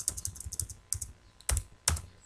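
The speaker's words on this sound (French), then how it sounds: "je valide la saisie en appuyant sur la touche Entrée du clavier" A computer keyboard is typed on softly with scattered light key clicks, then two heavier, distinct presses of the Enter key stand out near the end.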